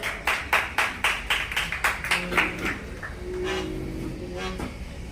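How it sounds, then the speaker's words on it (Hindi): Rhythmic clapping in unison at an award ceremony in Delhi honoring students who passed 10th and 12th grade, with about a dozen evenly spaced claps that fade out before a voice speaks. "एक बार फिर से जोरदार तालियां।"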